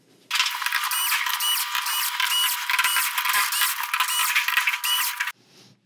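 A screwdriver turns screws out of the metal plate inside a Sony XBR-55A9G television, giving close, bright, continuous rasping and clicking for about five seconds before it stops abruptly.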